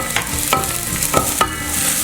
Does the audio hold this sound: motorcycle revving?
no